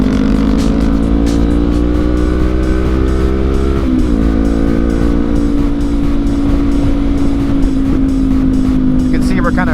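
A 2019 Honda CB500X carrying a passenger on Oregon twisties, its engine droning steadily under heavy wind noise with a brief dip and pitch shift as it pulls out of a corner, with a voice talking over it.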